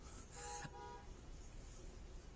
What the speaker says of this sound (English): Don't know if you heard that horn honking, but someone's being rude.